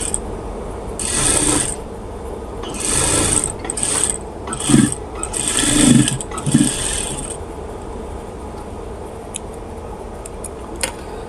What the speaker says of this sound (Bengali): এখন আমরা চাপ সেলাইটা বসিয়ে দেবো